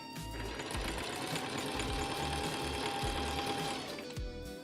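Steady, continuous whir of a sewing machine stitching an elastic zipper in place, running close and loud for several seconds with a rhythmic mechanical chatter and no talking.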